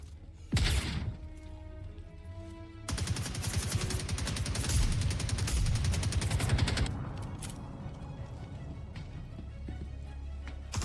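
Gunfire in the space shooter game Star Citizen, with a sharp opening shot followed by a long dense burst of rapid automatic fire that eases into lighter trailing shots over game ambience.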